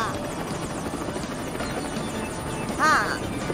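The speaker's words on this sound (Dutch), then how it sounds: "als een helikopter kun je over het kanaal vliegen" A helicopter drones steadily with a rotor thrum, a brief higher whirring swell near the end, with some voices faintly underneath.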